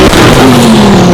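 Twin-turbo Lamborghini Huracan Sterrato with 1,100 horsepower, engine roaring loud and close in one sustained rev with a rising then steady tone.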